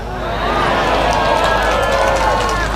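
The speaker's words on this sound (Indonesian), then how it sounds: "Tuh bidadarinya tepuk tangan semua" An audience at an Islamic sermon breaks into sustained, dense clapping that swells in quickly and holds steady at a loud, crowd-wide level, with a voice faintly mixed in underneath.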